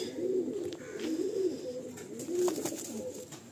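Pigeons coo softly and repeatedly in their coop, low throaty murmurs overlapping at close range with faint background noise.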